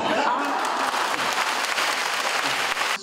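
A hall audience at a Tzu Chi gathering in Keelung, with volunteers and actors from the drama Seeker, breaks into dense, steady applause that holds at full strength for the whole stretch before easing slightly at the end.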